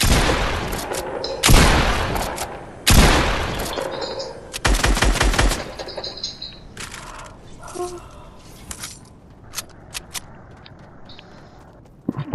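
Loud, close bursts of automatic gunfire from a video game erupt several times in quick succession, then thin out into scattered distant shots and clicks over a quieter background.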